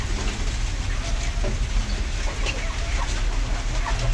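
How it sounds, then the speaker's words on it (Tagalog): Rain falling outdoors before a fishing trip, a steady close hiss of drops on surfaces with a few distant bird clucks, no talk. "Medyo maulan."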